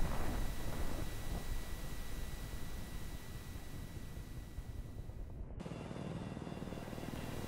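Helicopter in Battlefield 4 flying, a steady dense rotor and engine roar that fills the whole stretch at constant loudness, with no talk.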